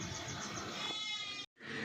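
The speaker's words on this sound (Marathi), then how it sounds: "हे बैलांचा आवाज बैलांच्या हुंगरांचा आवाज" A cattle low sounds close by from oxen in a village, drawn out and slightly wavering, then breaks off with a brief silence.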